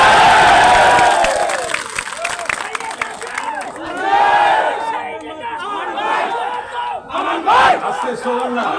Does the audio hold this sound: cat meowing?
no